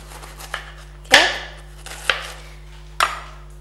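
A knife chopping through a fresh head of cabbage on a board, four crisp, separate cuts with the loudest at the second, over a low steady kitchen hum.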